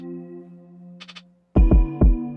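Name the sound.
lo-fi piano sample through Baby Audio Super VHS plugin, EQ, overdrive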